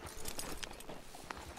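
Horse hooves clip-clop in Red Dead Redemption 2, a few faint, uneven hoof strikes on the ground against a soft background.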